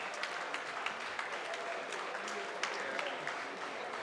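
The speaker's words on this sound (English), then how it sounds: "I can hear those claps" An indoor audience at a Bengaluru expo stage event on commercial kitchen energy efficiency claps steadily, a dense patter of many hands continuing throughout at moderate volume.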